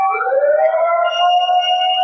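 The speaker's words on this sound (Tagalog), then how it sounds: "Bumbero o ambulansya." A wailing fire truck siren rises and holds steady at night, loud and continuous, with several bright tones sweeping upward then sustaining.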